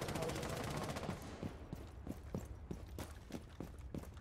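Gunfire in the video game Rainbow Six Siege, a rapid automatic burst at first, then a string of separate sharp shots at uneven intervals, faint and somewhat distant.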